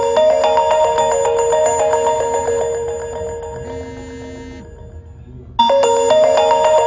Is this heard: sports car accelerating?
no